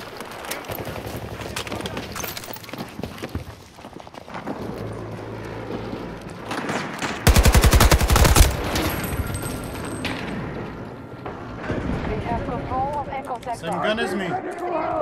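Battlefield video game gunfire crackles under steady talking, with scattered shots and a dense loud automatic burst near the middle amid ongoing battle noise.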